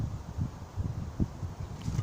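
Strong outdoor wind buffeting a microphone in low, irregular gusts, a steady rumbling roar with soft rustling and no speech.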